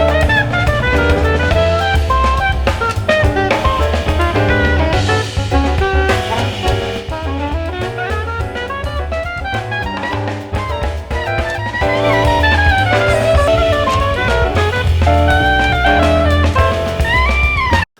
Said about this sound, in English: the sound you hear when it's bypassed is the level it is before limiting, and then when the limiter comes in, that's the level the limiters bring it to